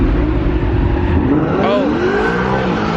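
A car slides and drifts at a car meet, its engine droning steadily while tires squeal in rising and falling wails, with people talking over the noise.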